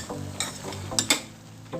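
Cauliflower, mushrooms and carrots being stir-fried in a pan, a brief soft sizzle broken by a few sharp utensil scrapes and clicks as the vegetables are tossed.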